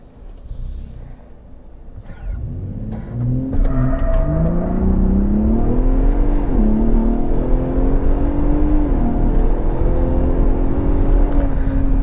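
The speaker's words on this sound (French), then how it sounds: "Je vais le mettre en mode sport. Puis, on va essayer ça." A 2021 Ford F-150 Raptor pickup accelerates hard in sport mode, its engine rising in pitch through several gear changes with a steady road roar, loud and close throughout.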